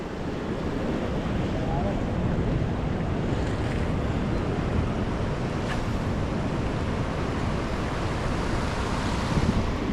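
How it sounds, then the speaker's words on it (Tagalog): Strong ocean waves crash on a rocky shore during rock fishing, a loud, continuous roar of surf with wind buffeting the microphone throughout. "malakas ang alon."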